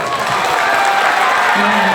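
Loud applause and crowd noise fill a packed open-air folk theatre ground at a village performance, a dense, continuous wash of clapping and cheering that stays close and steady throughout.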